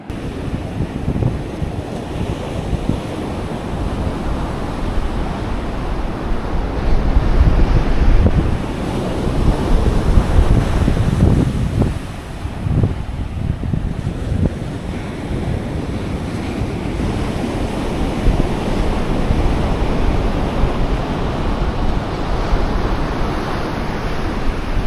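Ocean surf rolling onto an Outer Banks beach in North Carolina, a continuous loud wash of breaking waves with wind buffeting the microphone.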